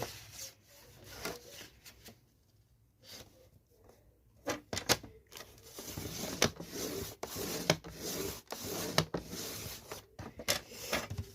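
Paper card being folded and creased at 10 cm while making an autumn-themed pocket greeting card, a run of close rubbing and scraping strokes with sharp crease clicks, no voices.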